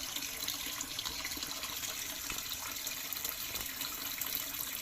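Water pours steadily into a homemade fish pond skimmer built on a 110-baht budget, producing a continuous broadband rushing flow with strong surface turbulence and suction. No voices.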